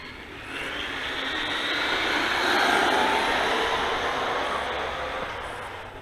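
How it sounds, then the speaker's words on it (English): A HOSIM X08 1:10 scale monster RC truck rated at 68 km/h accelerating on a gradual throttle, its motor giving a smooth broadband whine that swells to a peak and eases off over several seconds, with no voices. "Gradually increase the throttle."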